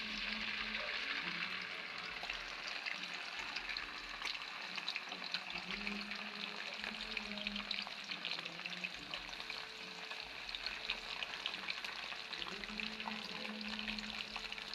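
Pechay with sardines is sautéed in a pan, a steady bright sizzle and crackle of frying with occasional stirring scrapes, continuous and fairly close, with no talking.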